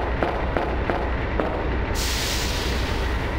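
Rapid bursts of a gas explosion in Resident Evil 2 crackle over a dense, steady game din, followed by a broad hissing roar that holds for the rest of the moment.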